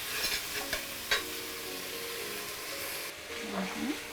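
Stirring a pot of pipengaille and chicken soup, with a soft, steady scraping and sizzling hiss running throughout and a few faint clinks near the start, under quiet background voices.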